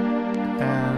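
An Omnisphere synthesizer pad holds a smooth, sustained chord that shifts to new notes partway through, soft and even with no talking.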